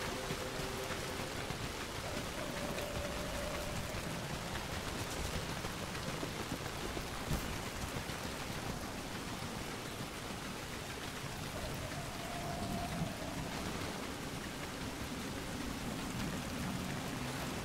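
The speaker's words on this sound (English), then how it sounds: "Still raining, huh?" Steady rain pours down in the survival video game Soulmask, a dense, continuous hiss of drops on surfaces that runs unbroken and fairly quiet throughout, with no talk.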